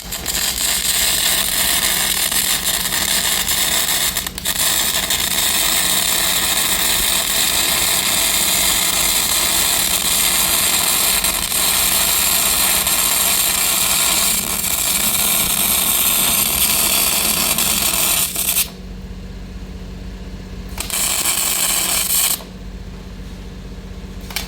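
MIG welding on a stainless steel trailer repair with Trimix shielding gas and high wire speed: a loud, continuous close crackling buzz that runs unbroken for about twenty seconds, then stops, restarts briefly and stops again.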